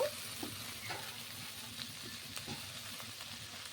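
Chopped tomatoes fry in a pan with garlic and ginger for butter chicken, giving a low, steady sizzle. Several soft spoon taps and stirring scrapes recur, close by but fairly quiet.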